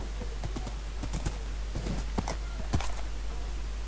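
Horse hooves in the Minecraft video game clip-clopping in a quick, irregular series of sharp taps, close and clear over a low steady hum.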